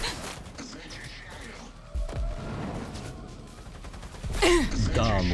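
Gunfire erupts in the video game Cyberpunk 2077: bursts of shots and heavy impacts crack through a busy mix of game effects, building to a loud blast near the end, with a voice talking over parts of it.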